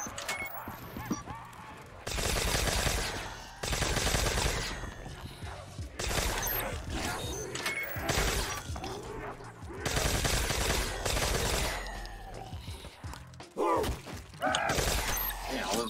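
Automatic gunfire in Black Ops 3 Custom Zombies, a Führerbunker map, comes in long, loud, dense bursts separated by short gaps, with game effects and a player talking between the volleys.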